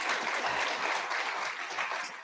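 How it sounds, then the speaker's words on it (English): An audience at a college pinning ceremony for speech-language pathology assistants gives a steady round of applause, a dense, even clatter of many hands clapping. "So how about a round of applause for Sue Torney, please, for that."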